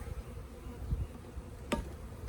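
Honey bees buzz steadily around an open Apimaye hive during a package installation, a close, continuous hum with a couple of brief knocks or taps.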